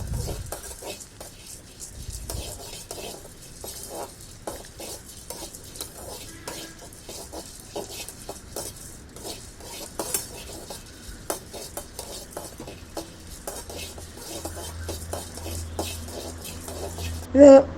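Chana dal dry roasting in a pan, stirred steadily with light scraping and rattling of the lentils against the metal, faint clinks scattered throughout, close and fairly quiet.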